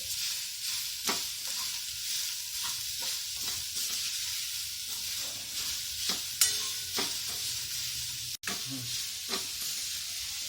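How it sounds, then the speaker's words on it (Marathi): Onion-tomato masala for chicken masala is stirred and fried in a pan: a steady close sizzle under repeated spatula scrapes and knocks against the pan, with no talking. "आता सारखा हलवायचा, फ्राय करायचा। मसाला फ्राय केल्याने चिकनला जास्त चांगला स्वाद येतो।"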